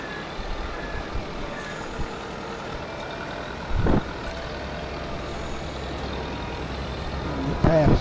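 A truck being moved on a Southeast US farm near a combine, a steady engine rumble with a brief hiss partway through and short reversing beeps near the end, heard alone without talk.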